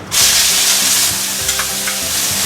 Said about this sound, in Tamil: சோம்பு பொரிஞ்சோடனே வெங்காயத்தை போட்டுக்கலாம்.